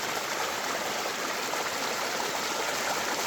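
Steady rushing stream water flows continuously at the Einot Tzukim desert oasis by the Dead Sea, a broad full hiss with no pauses, close and fairly loud, with no voices.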